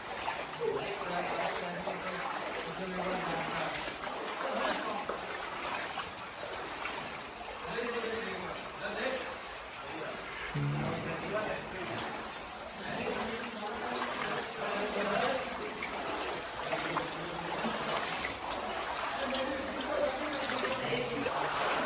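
Water trickles and flows steadily along a narrow stream passage inside a cave, echoing, with faint voices and footsteps now and then beneath the continuous burble.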